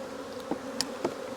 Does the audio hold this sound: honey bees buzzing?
yes